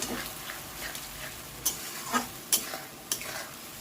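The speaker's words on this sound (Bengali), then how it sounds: "ভালো করে নেড়ে চেড়ে একটু কষিয়ে নিতে হবে" Ginger-garlic paste fries with turmeric and salt in an oiled pan, giving a soft steady sizzle. A spatula scrapes and taps against the pan a few times, with sharp strokes near the end. No voices are heard.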